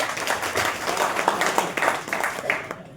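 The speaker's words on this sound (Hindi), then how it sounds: "ताली बजाइए।" Audience clapping at a B.Ed college seminar, a dense burst of hand claps lasting about three seconds and stopping abruptly.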